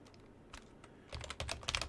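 Computer keyboard typing, light scattered keystrokes at first, then a denser, louder burst of rapid clicking, close to the microphone with no talking.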